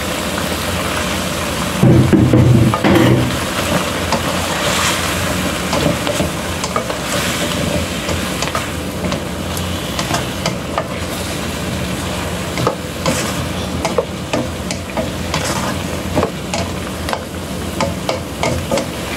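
Zucchini hits a pan of pork and puff tofu being stir-fried, a burst of loud sizzling and scraping at first, then continuous crackling frying with stirring throughout.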